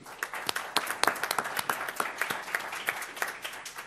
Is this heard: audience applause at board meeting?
yes